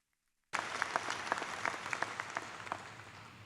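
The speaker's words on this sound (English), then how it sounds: "Let's have a round of applause for these outstanding students." Audience applause at a 2014 commencement ceremony starts abruptly after silence, a crowded hall of clapping hands with distinct individual claps, steady and fairly distant.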